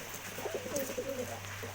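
Pet pigeons kept indoors on a rainy day give soft, low cooing calls, faint and close, over a steady background hum.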